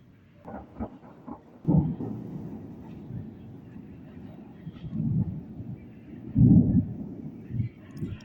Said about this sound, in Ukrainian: Гримить і гримить